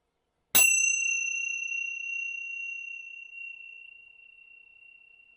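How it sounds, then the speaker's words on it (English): A single Tibetan bell or chime is struck once and rings out clearly, its bright, pure tone sustaining and slowly fading over several seconds in a quiet room. "these are Tibetan, I don't know, bells, chimes"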